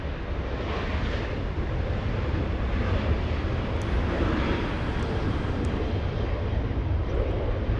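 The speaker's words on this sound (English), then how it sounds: "Let's say we have a Southwest 737 departure." A Southwest Airlines Boeing 737 departing Los Angeles International Airport, bound for Denver, produces a continuous loud jet engine rumble with a steady roar and no voices.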